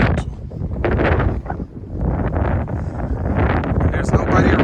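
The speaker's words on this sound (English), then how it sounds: "It's starting to get really windy now too." Strong gusting wind buffets the microphone in a steady roar near Tavira, Portugal, with a low rumble throughout.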